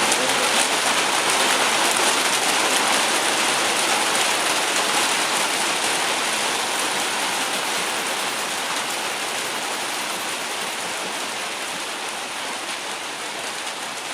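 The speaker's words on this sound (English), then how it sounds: "That rain is stopping me from talking, because I can't hear myself talk" Heavy rain pours down in a dense, steady hiss that fills the whole stretch, loud and close, easing only slightly toward the end, with no voices.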